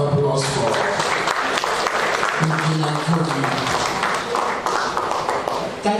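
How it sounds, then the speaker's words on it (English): Steady applause from a crowd at a national conference fills the whole stretch, dense clapping with a voice carrying over it. "Another round of applause for"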